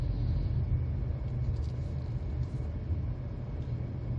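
Tyre rumble from a 2019 Volkswagen Polo 2.0 GTi Plus driving over a badly broken road surface: a continuous, heavy low roar with a slightly uneven texture from the rough tarmac, and no voices.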